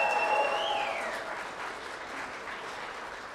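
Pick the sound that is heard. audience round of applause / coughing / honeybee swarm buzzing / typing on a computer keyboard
audience round of applause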